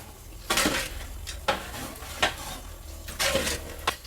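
Chicken and potato curry stirred in a pot on low heat, a spoon scraping and knocking against the metal in several separate bursts, close and clear over a faint simmer with no talking.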